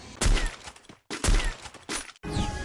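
Three loud sniper rifle shots in the Free Fire battle royale game, each a sharp blast with a ringing tail, spaced roughly a second apart with brief silences between.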